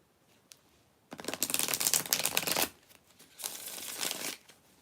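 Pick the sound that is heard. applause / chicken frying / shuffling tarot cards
shuffling tarot cards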